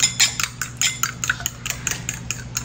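Eggs beaten with ground pepper, salt and seasoning in a bowl, giving a fast, even run of close, crisp utensil clicks against the bowl, without any voices.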